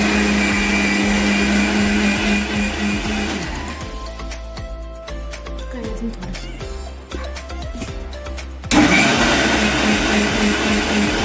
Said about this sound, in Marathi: आता आपण हे मिक्सरला फिरवू.